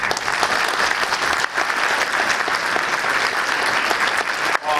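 An audience in a theater applauds, a dense, loud wash of many hands clapping continuously for several seconds, dipping briefly twice, with a few voices faintly mixed in.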